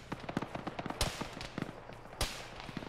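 Gunfire in a ShackTac Arma military video game: scattered distant pops and cracks with two sharper, louder reports standing out among them.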